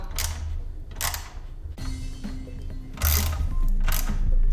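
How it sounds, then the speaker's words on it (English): A drive belt is tightened on a DeWalt DW708 miter saw. Close mechanical clicks and ratcheting turns repeat in short bursts, with a couple of brief bright scrapes and some low thumps. "I was tightening the belt. So let me turn it as much as possible."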